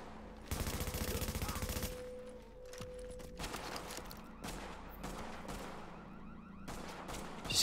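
Sustained automatic gunfire in a video game, with loud dense bursts and shorter volleys that keep going throughout, mixed with other game sounds and no speech.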